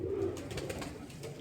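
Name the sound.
male pigeon cooing while being handled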